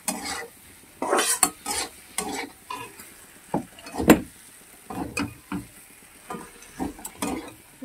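Chicken scraps stir-fried with spices over medium heat sizzle softly beneath repeated scraping and clattering strokes of a spoon against the pan, in uneven bursts.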